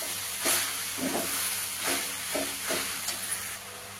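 Moringa leaves frying on a low flame in a pan make a steady hiss, broken by several soft scraping strokes at irregular intervals, close by and without any talking.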